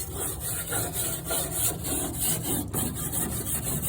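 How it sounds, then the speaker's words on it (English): Dirt scrubbed off an old object in a shed, a continuous rough rubbing and rasping with steady back-and-forth strokes close by, and no one talking. "Now, I'm just going to scrub that off a little."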